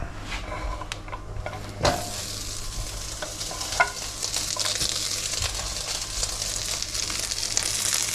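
Chorizo sizzles in olive oil in a pan, a strong steady frying hiss close by with occasional utensil knocks and scrapes and a sharp clank near the start.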